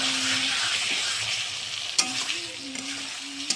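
Egg curry masala frying in a wok, a steady close sizzle with scraping stir strokes around the two-second mark, with no talking.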